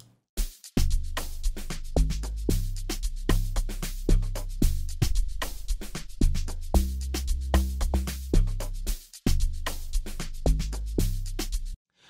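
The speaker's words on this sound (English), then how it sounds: "and now the log drum" Deep, punchy amapiano log drum hits pulse in a steady groove alongside a drum pattern, with booming low bass notes sliding under sharp attacks; loud and continuous.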